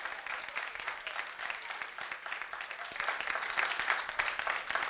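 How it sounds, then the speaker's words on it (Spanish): A church congregation claps during a Sunday morning service, dense continuous applause swelling slightly toward the end, fairly close and steady, with a faint voice underneath. "dale ese aplauso al Señor en esta mañana"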